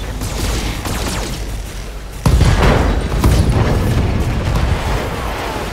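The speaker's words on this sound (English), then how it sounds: "Firing on target." Mech weapons firing and explosions in the BattleTech video game: a constant loud barrage of booms with a heavy blast partway through, then sustained rumbling fire.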